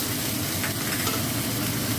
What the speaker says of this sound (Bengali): এবার কষবো ভালো করে